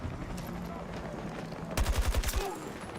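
Burst of rapid automatic gunfire in the shooter game Battlefield, a quick string of loud cracks arriving after a stretch of low background game noise.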